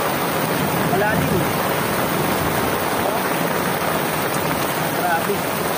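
Heavy rain pours down in a dense, unbroken roar during a storm, loud and close throughout, a steady wash of hiss with no pauses.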